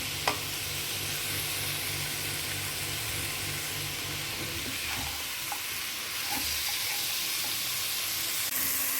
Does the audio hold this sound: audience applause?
no